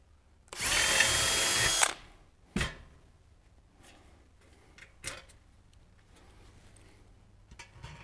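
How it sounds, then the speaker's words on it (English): A pneumatic rivet tool sets rivets in aluminum parts of a Zenith Super Duty aircraft intercooler scoop, giving one loud, steady burst of just over a second, then a sharp short pop and a few faint clicks and knocks. "This one I'm going to provide a little support on as I rivet it."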